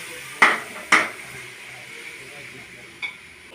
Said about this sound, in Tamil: லைம் போட்டு கிளறிக்கலாம்.